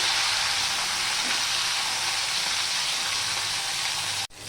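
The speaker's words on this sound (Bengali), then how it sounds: "মাছের এক পিঠটা হয়ে গেছে এবার আমি অপর পিঠটা এইভাবে ভেজে নেবো" Fish frying in a pan, a dense continuous hiss of hot oil sizzling close up, steady and loud before cutting off abruptly near the end.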